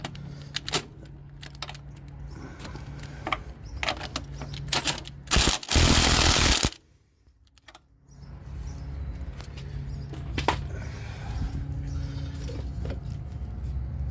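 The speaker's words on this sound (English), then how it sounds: "Just tighten these nuts down." Wrench clicks and metallic rattling while tightening transmission mount nuts on an Acura Integra, close irregular ratcheting with a brief loud burst midway, then a quiet pause before the clicking resumes.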